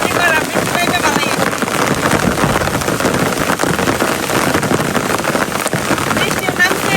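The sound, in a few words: heavy rain falling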